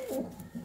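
A black-eyed male pigeon coos close by, a short low throaty burst followed by a second softer phrase.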